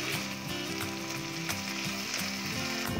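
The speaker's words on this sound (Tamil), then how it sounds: "கீரை கொஞ்சம் வதங்கட்டும்." Drumstick leaves sauté in a hot pan for a chutney, a steady close sizzle and crackle lasting the whole stretch with faint stirring scrapes and no talking.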